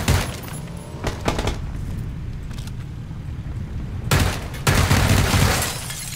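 Gunfire in a PUBG firefight: a close burst of sharp shots near the start, a sparser stretch, then another loud volley toward the end.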